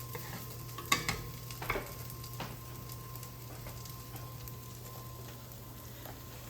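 Chorizo cooks in a pan for a cowboy frittata, giving a steady low sizzle and fry with a few sharp clinks and scrapes of stirring near the start, no talk over it.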